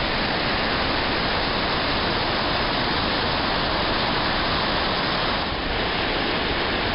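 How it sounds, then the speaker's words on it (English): A river rushes through a gorge in Oregon as a constant, dense roar of flowing water, steady and unbroken throughout. "The river continues to make its way down through the gorge."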